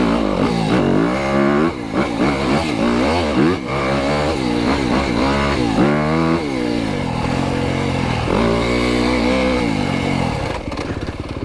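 A 2025 Yamaha YZ250FX dirt bike engine revs hard while being ridden, loud and close, climbing and dropping through repeated throttle bursts and gear changes, then settling to a steadier drone.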